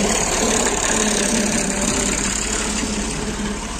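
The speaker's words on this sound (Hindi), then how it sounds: "ट्रैक्टर ने शोर मचा दिया।" Tractor engine running on a farm where soil is being leveled, a loud, steady mechanical drone with a knocking low rumble, heard alone and close throughout.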